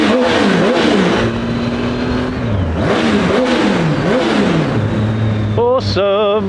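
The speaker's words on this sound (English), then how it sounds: "There's like 2 or 3 notes in there, possibly 3 due to it being a 3-cylinder engine." A 2015 Triumph Tiger 800 XRx three-cylinder motorcycle engine revs loudly and close, its pitch climbing and falling through repeated throttle blips, ending in a sharp high rev.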